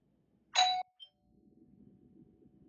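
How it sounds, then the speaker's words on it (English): A single doorbell chime from a phone sounds briefly and is abruptly cut short, followed by a tiny faint blip, then quiet low background noise. "Well, that was a cutoff doorbell."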